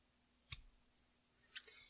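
Scissors snipping strings on a DIY prop potion bottle, two quiet, crisp cuts about a second apart against a near-silent background.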